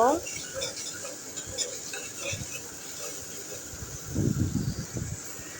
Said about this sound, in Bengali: এই যে এখন আমি গুঁড়া মরিচগুলো দিয়ে দিচ্ছি নেড়ে চেড়ে ভালোভাবে কষিয়ে নিব